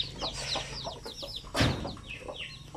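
Native chickens and chicks in a coop, with a steady stream of high chirping peeps and soft clucks, fairly quiet and close, plus a brief rustle or flap midway.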